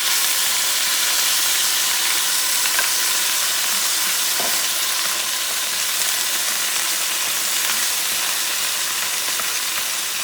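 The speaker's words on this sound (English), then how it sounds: "I'm going to add now the tomato sauce." Tomato sauce going into a hot pan of shrimp stew, giving a loud, steady sizzle and hiss that holds evenly throughout, close by, with no talk.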